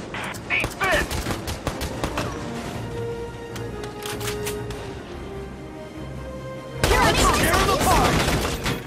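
Scattered rifle shots and bursts of fire crackle through a battle in the tactical war game Valkyria Chronicles 4. Under the gunfire are voices and a low rumble, and a heavy, dense volley erupts near the end.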